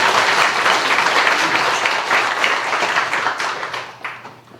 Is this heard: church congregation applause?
yes